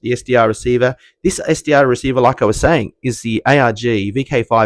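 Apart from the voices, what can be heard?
No distinct noise like a dog, phone or traffic.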